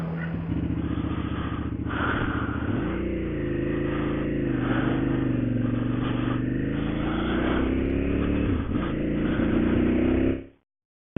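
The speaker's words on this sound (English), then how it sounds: "Bike's running rough." Motorcycle engine running rough, a steady close drone with a wavering, uneven pitch that rises slightly partway through before cutting off abruptly near the end, with no talking.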